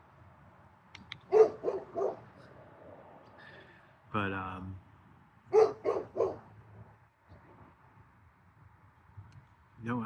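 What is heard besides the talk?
dog barking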